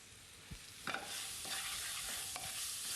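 Thai fish dish ingredients tossed in a dry pan with no added oil, giving a soft continuous sizzle with a few sharp scrape-and-stir knocks of a utensil against the pan, close and steady.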